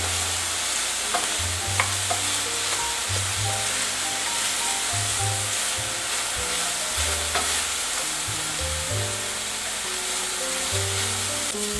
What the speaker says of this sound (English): You just want to fry the onion until it becomes a little translucent.